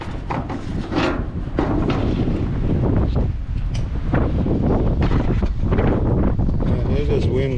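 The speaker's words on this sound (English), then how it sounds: "it is windy out here" Gusty wind buffets the microphone outdoors on a farm, a loud, uneven low roar that surges and holds, with a voice and a few handling knocks mixed in.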